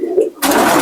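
Pakistani pigeons cooing in their loft, a brief low throaty coo up close that is cut off by a burst of broad rustling noise.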